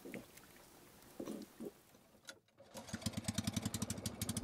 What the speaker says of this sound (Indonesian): Pria parubaya ini kembali menyalakan mesin untuk berpindah lokasi.